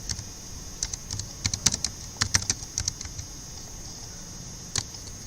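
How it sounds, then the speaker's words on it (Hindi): Python code being typed on a computer keyboard: irregular bursts of crisp key clicks, close and fairly quiet, then a pause and one final keystroke near the end. No talking. "यहाँ पे आप जो भी टाइप करेंगे एंटर करिए"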